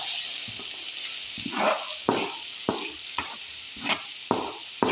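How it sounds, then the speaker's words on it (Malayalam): Chopped onions fry in a pan with a constant hissing sizzle, broken by regular scraping stirs that come roughly every half second, close and clear with no talking. "ഇതിലേക്ക് ഉള്ളി മുറിച്ച് വെച്ചിട്ടുണ്ട്, ചെറുതായിട്ട് അതൊന്ന് ഇട്ട് കൊടുക്കാം"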